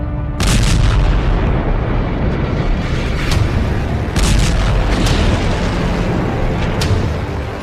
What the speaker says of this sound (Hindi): एक के बाद एक धमाके हो रहे हैं